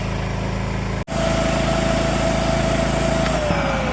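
A loud, steady motor whine from a 2100-watt vacuum cleaner cleaning a baler runs continuously, cutting out for an instant and then resuming with a slowly falling tone.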